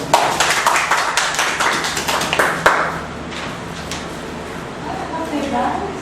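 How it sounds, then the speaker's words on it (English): Applause at a Toastmasters club meeting for the club president: a burst of many hands clapping in quick irregular patter that fades after a few seconds, with murmured voices underneath. "Applause for our president."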